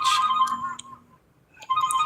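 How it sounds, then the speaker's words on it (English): A phone ringing in bursts of bright electronic tones, loud at the start, pausing for about half a second, then sounding again toward the end with no talk over it. "Phone's ringing."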